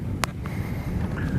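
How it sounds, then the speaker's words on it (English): Strong wind on a lake buffets the microphone in low rumbling gusts outdoors, with a couple of brief knocks and faint tonal whines in the background. "And excuse the wind if it's a little blurry because it's very, very windy today."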